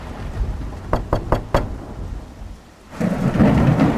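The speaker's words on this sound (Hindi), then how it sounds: "दरवाजे पर जोर जोर से दस्तक होती है।" Four quick, heavy knocks on a door during a thunderstorm, followed by a short lull and then a swell of rumbling thunder and pouring rain.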